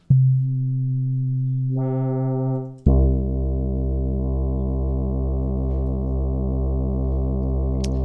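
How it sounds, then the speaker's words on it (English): A sustained sine-wave synthesizer tone on an OP-XY steps up in pitch, cuts off, then returns as a steady, buzzier drone that holds without pause. "What if we just go with regular sine wave?"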